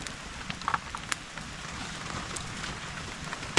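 Steady rain falls in a forest with scattered close drops and crackles over a dense, even hiss, under windy conditions with no voices.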